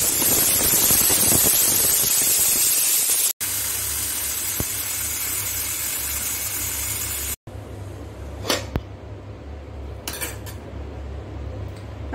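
A pressure cooker of black chickpea curry, after three whistles on high heat and with the gas off, releases steam in a loud continuous hiss that cuts off abruptly, followed by quieter clinks of metal.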